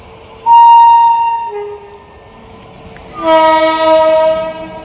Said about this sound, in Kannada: ಟ್ರೈನ್ ಟ್ರೈನ್ ಟ್ರೈನ್ ಅಣತ್ ನೋಡ್ರಿ